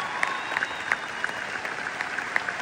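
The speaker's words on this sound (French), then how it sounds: "on peut les applaudir très fort" An audience applauds a couple at a French show, steady clapping from a crowd with a few sharper individual claps standing out, even in loudness for the whole short stretch.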